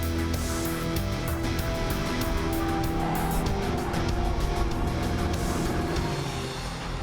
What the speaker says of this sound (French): Romain Sarrazin affronte 6 des top gamers européens dans la course finale